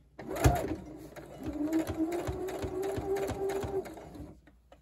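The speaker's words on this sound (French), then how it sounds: "si vous n'êtes pas habitué à la machine à coudre, allez-y doucement sur la vitesse." A domestic sewing machine stitches fabric for garment-style sewing, with a rapid regular mechanical chatter and a steady motor whine running for several seconds before stopping, close and fairly loud.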